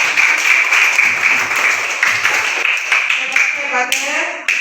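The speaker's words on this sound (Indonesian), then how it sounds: "tepuk tangan" Classroom applause during a lesson, a dense, loud patter of many children's hands clapping together for a few seconds, with a voice briefly heard near the end.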